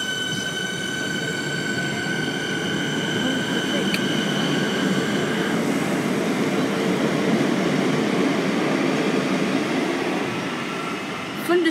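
Train pulling out of a station on a suburban rail line toward Broadmeadows, a steady rumble of wheels and motors building evenly throughout, with high whining tones that shift and fade partway in, heard up close from inside or beside the carriage.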